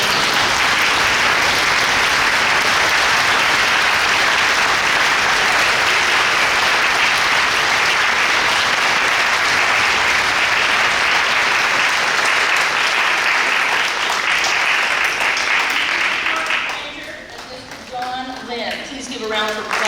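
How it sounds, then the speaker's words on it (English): Sustained, loud audience applause for an honorary board member at a foundation board presentation, steady through most of the clip before thinning out toward the end with a few voices emerging. "Please give a huge round of applause for Mr. George Granger."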